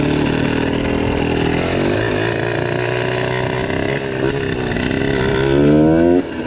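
A warmed-up HM CRE single-cylinder moped scooter runs loud and close, its buzzing engine holding steady before rising sharply in pitch as it pulls away in first gear.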